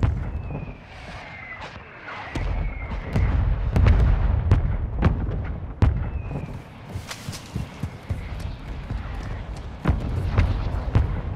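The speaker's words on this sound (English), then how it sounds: "Mortar strike inbound." Mortar strike explosions in Call of Duty Warzone 2 land as a run of sharp, loud booms and blasts spread across the clip, under a steady rumbling game soundscape.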